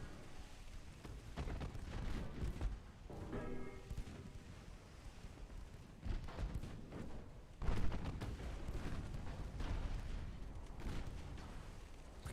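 Naval gunfire in Ultimate Admiral: Dreadnoughts, shells striking enemy ship armor: a steady barrage of booming impacts and rumbling blasts, with a louder crack near the end over continuous low roar.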